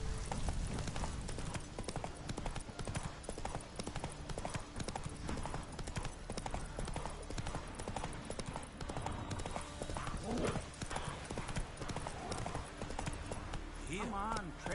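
Galloping horse hooves in the video game The Witcher 3, a fast continuous clip-clop beneath a dense game soundtrack and voices talking throughout, with a brief whinny near the end.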